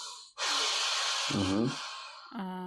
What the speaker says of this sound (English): My dog is now snoring here.